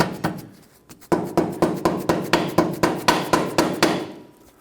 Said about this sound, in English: Now with a rubber mallet, continue tapping it in until that lines up.